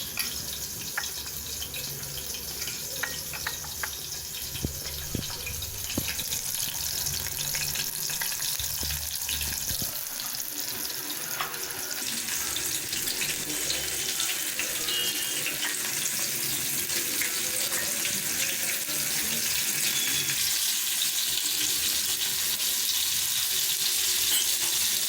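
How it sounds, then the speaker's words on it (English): Chicken 65 pieces frying in a hot pan at home, a steady close sizzle and crackle of oil running throughout with occasional spits and bubbling, no voices. "When you dip the chicken and put it inside the frying pan, you have to hear that sound which comes."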